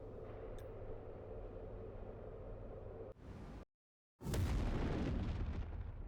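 Explosives detonating in a video game: a loud broadband blast bursts in after a brief silence and rumbles on for a couple of seconds, following a sustained low background roar and a sharper crackling burst just before.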